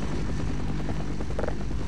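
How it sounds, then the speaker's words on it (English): Helicopter in the video game Half-Life: Opposing Force, a steady, loud, dense rotor and engine drone that fills the whole stretch with a faint rhythmic chop, and no one speaks over it. "Okay, helicopter."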